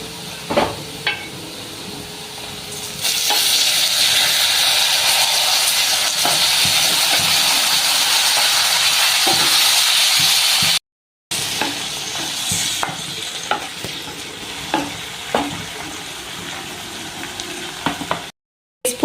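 Lemons coated in turmeric powder and salt are dropped into hot oil for a Kerala-style pickle, setting off a loud, steady sizzle that runs unbroken for several seconds, with faint stirring clicks and scrapes beneath it.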